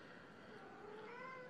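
Cat meowing in one drawn-out, rising call, close but quiet, with no talking over it.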